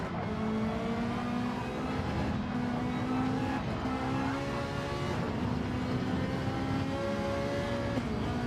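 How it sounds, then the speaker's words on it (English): A GTC-1 race car at Spa in a racing game roars continuously, its engine pitch stepping through shifts as it runs hard; loud and close, with no talk. "downshifting, fighting to keep that car going straight."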